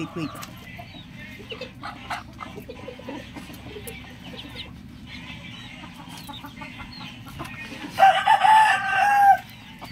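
A pure Texas breed rooster on a small farm clucks repeatedly, then lets out a loud, close crow near the end, with someone speaking in between.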